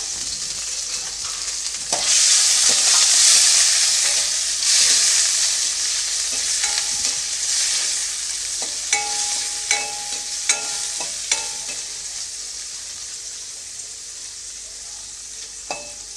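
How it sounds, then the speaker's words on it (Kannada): Paneer pieces fry in oil in a kadai until browned on both sides, giving a bright, steady sizzle that later settles into a softer hiss with occasional clicks of stirring, close and alone. "ಆ ಕಡಾಯಿಗೆ ಹಾಕ್ಕೊಳ್ತಾ ಇದ್ದೀನಿ ಪನ್ನೀರನ್ನು ನಾವು ಒಂದು ಸ್ವಲ್ಪ ಎರಡೂ ಕಡೆಯೂ ನಾವು ಸ್ವಲ್ಪ ಬ್ರೌನ್ ಕಲರ್ ಬರೋವರೆಗೂ ಇದನ್ನು ಫ್ರೈ ಮಾಡ್ಕೋಬೇಕು"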